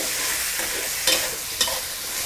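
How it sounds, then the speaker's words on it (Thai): Squid stir-fried with pounded spice paste over high heat, a loud close hiss of frying with two sharp scraping stirs of the spatula in the pan. "ผัดปลาหมึกกับเครื่องให้พอตึงๆก่อนนะ"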